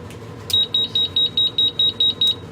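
A buzzer on a freshly assembled F4 AIO flight-controller drone build sounds about ten short, shrill, evenly spaced beeps, close and loud, with no talking.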